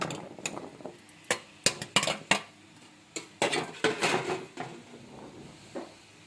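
Chunks of soap base drop into a pot of hot water on a low stove with a run of hard knocks and clinks against the metal, some in quick clusters. The sounds are close, with short gaps between them.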